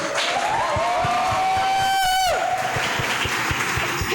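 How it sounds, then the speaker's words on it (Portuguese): Applause from a church congregation at a Christmas service, a steady wash of clapping running through the whole stretch while a sustained musical tone glides and then fades partway through. "Palmas para minha vizinha."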